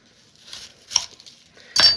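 A knife cuts the end off a vegetable: soft scraping and a small tap, then a sharper, louder chop near the end, close and without talk.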